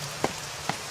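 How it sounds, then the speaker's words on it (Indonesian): Rain falling in a Doraemon cartoon, a steady wash of drops with two brief louder splashes standing out over the constant hiss. "Hujan."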